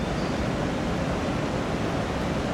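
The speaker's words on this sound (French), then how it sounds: "cette belle cascade" Steady, loud broadband rush of water spilling over a river lock in Cahors, a dense continuous roar with no breaks and no voices.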